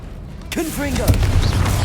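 Confringo blasting spell in Hogwarts Legacy erupts with a sudden loud explosive burst after a quiet moment, followed by rumbling debris while a voice speaks over it.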